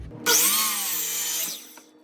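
A power saw makes a bevel cut through a scrap wood board, a loud, close whining buzz that starts abruptly, holds for over a second and then winds down.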